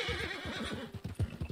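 A horse in Red Dead Redemption 2 neighs and whinnies with a few clip-clopping hoofbeats, loud and close, with no talking over it.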